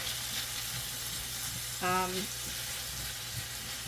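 Chicken and garlic sizzle in butter in a pan, a steady frying hiss with occasional stirring scrapes and a brief low hum partway through, with no talking.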